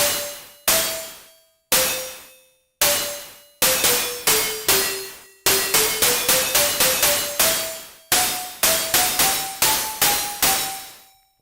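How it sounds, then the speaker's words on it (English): An Elektron Model:Cycles groovebox plays its FX Noise Select preset: sharp pitched noise stabs, each striking and decaying, first spaced apart, then in faster runs of repeated hits stepping up and down in pitch, with nobody talking. "We're going through some of the presets on the model cycles here. This one's FX Noise Select,"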